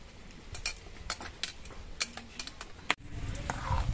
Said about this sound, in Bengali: একটুখানি চামচের মধ্যে করে ঘি নিয়ে একটা থালার মধ্যে মাখিয়ে নিচ্ছি